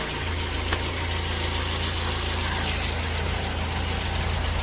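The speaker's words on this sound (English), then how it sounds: "So with the engine running" A car engine idles steadily nearby, a constant low hum with faint vibration running throughout, with no talk over it.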